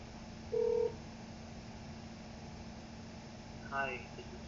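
A phone tone plays once, followed a few seconds later by a short burst of ringing, all over a steady background hum while a person talks.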